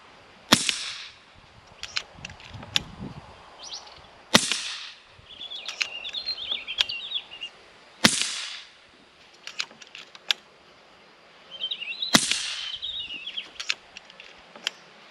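Four sharp, loud cracks from an FX DRS Tactical .22 air rifle fired at a small target, spaced about four seconds apart, each followed by a faint impact, with bird chirps in between.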